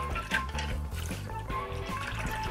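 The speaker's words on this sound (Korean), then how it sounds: "사탕수수 우린물 700ml, 곤약가루 10g 먼저 잘 풀어주세요." A spoon stirs konjac powder into steeped sugarcane water, giving a close, steady liquid swishing and light clinking against the pot, with low kitchen hum beneath.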